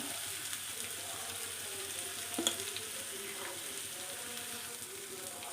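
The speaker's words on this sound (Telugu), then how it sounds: "మిక్స్ చేసిన పిండిని గుడ్డు దోశపిండి మిక్స్ చేసిన పిండి అయితే ఇలా వేసుకుంటున్నాం" Egg and dosa batter mix poured into a hot paniyaram pan sizzles in a soft, steady crackle, with a brief clink and pop midway, heard close and without speech.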